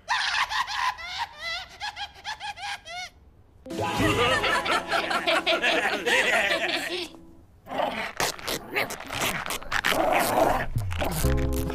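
A puppy barks and yaps in an animated cartoon, short bright bursts mixed with snickering laughter and busy cartoon effects, loud and close throughout with a brief pause midway.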